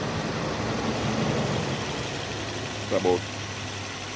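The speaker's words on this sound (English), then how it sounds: "this is how it is here, the car idling" A car engine idles with a steady low rumble and vibration while a voice speaks briefly near the end.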